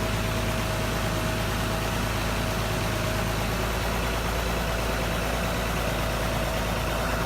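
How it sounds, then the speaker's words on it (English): A tractor engine runs steadily in a flooded area after heavy rains, a loud, constant low drone with broadband noise and no talk. "a tractor was needed to make the trip to and from the flooded area"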